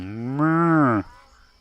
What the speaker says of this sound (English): Need a cow caller, eh?